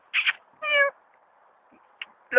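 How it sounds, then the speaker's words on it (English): A cat gives a few short, sharp meows with pauses between them, close by and fairly clear against a quiet background. "it's a cat"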